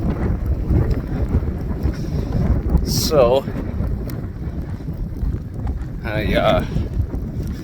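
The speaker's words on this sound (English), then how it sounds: "Very windy." Outdoors, wind buffets the microphone in a constant heavy rumble throughout, with brief louder gusts and a voice speaking a few words partway through.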